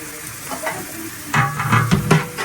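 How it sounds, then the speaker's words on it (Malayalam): Garam masala paste frying in a pan while being stirred, with a continuous sizzle and louder scraping strokes of the spoon in the second half, close and clear. "നന്നായി ഇളക്കുകയാണ് ഗരം മസാല അരപ്പ്."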